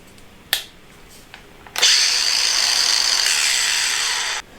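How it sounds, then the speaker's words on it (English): An angle grinder fitted with a flap disc grinds brake mounts off a bike frame being reworked into a gravel bike, a loud steady whine holding for nearly three seconds after a couple of sharp taps. "I'm going to use my grinder and flappy disc to power through the initial work"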